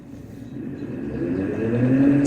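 A DC motor spins up after its direction is reversed to anti-clockwise, a close whirring hum that rises steadily in pitch and loudness over the short clip.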